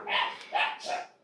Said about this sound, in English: You can probably hear them all barking.